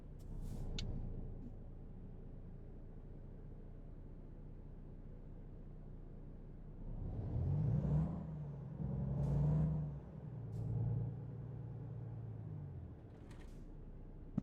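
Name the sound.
truck engine starting and running in American Truck Simulator video game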